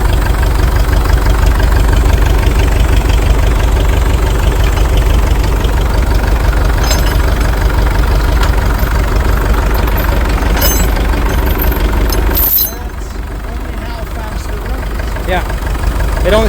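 An International TD-6 crawler tractor's diesel engine runs loud and close, a steady low rumbling idle with a knocking rhythm and a misfire condition. Near the end the engine note drops and shifts as the load changes, with people talking faintly nearby.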